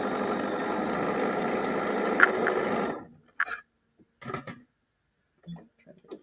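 Sewing machine stitching a quilt block for a mosaic sampler, a steady motor whir for about three seconds that stops abruptly, followed by a few brief clicks and handling noises.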